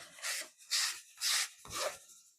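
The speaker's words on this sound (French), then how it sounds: "Ensuite, on va commencer l'étape du ponçage." Hand sanding on a piece of wooden furniture during a DIY jaspage refinish: four steady back-and-forth rasping strokes, each about half a second long, close up and clear, with no talk.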